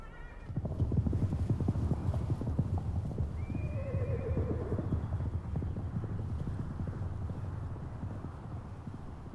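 Horses on the open South American pampa, with steady close clip-clop of hooves throughout and a clear neigh rising midway, against light wind and no talk.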